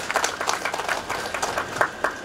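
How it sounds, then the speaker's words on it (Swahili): An audience at a formal Tanzanian judiciary ceremony welcoming advocates applauds, a fairly soft, steady patter of many hands clapping together without pause. "Kwa utambulisho mzuri, naomba wote tumpigie makofi."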